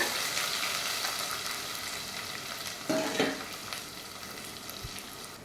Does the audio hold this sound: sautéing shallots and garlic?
yes